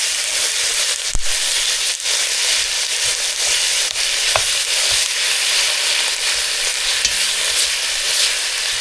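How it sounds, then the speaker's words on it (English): One pound of ground beef sizzles and crackles in olive oil in a pot over medium-high heat, with steady frying broken by a few sharp stirring scrapes, close and loud with no talk. "we're going to be using 1 pound of ground beef. And what you want to do is heat it up first and get it nice and brown."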